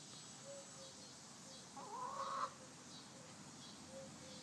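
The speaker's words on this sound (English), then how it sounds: "Wow, there's a chicken." A farmyard chicken clucks once briefly, faint and fairly distant, against quiet outdoor background noise, with a few softer calls around it.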